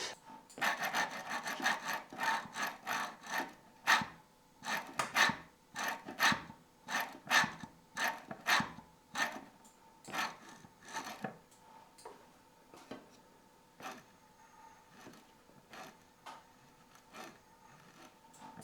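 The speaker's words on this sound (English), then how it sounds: "you can hear in this clip how the mechanism produces kind of a scratchy, scrapey noise" A Simucube ActivePedal Pro pedal mechanism gives a scratchy, scrapey rasp in a long run of quick strokes, dense and louder at first and then sparser and softer, close up with no talk.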